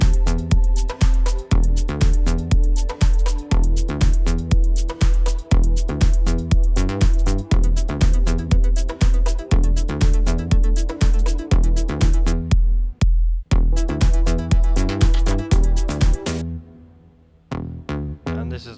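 Nu disco track built on a bass patch from the u-he Diva synth, with a steady four-on-the-floor kick and pumping bassline, loud and continuous, breaking briefly near the end before the bass plays alone.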